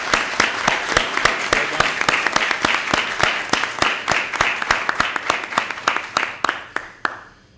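An audience at a Senate bill announcement claps in a sharp, evenly spaced rhythm that holds steady for several seconds and then tapers off.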